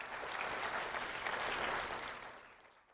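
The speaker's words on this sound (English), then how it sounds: "So a round of applause for those people helping behind the scenes." An audience at a Lee County public event gives a round of applause for volunteers, a soft, fairly distant wash of clapping that holds steady before fading out toward the end.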